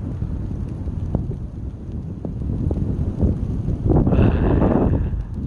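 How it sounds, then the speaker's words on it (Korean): Strong mountain wind roars through a blizzard on snowy Gyeryongsan, buffeting the microphone in a steady loud rush that swells stronger toward the end. "와, 눈보라, 제대로 눈보라요. 지금 바람 세기도 지금 엄청나요."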